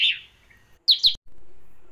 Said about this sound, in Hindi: जब दिन निकल आया चिड़िया चह चहाई.